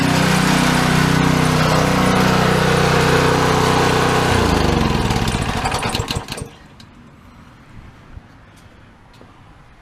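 A small pressure washer engine runs steadily at a constant 3,700 RPM, loud and close with a dense mechanical roar. Partway through, its tone shifts and then cuts off sharply, leaving quiet background.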